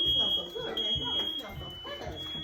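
Smoke detector alarm sounding indoors, a steady piercing high tone running continuously at moderate loudness beneath several people talking over one another.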